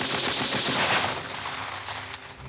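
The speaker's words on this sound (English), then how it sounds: "Just before we move out, someone starts firing at us." Gunfire fired at soldiers, rapid overlapping shots in a dense burst that loudly crackles and echoes, then gradually thins out.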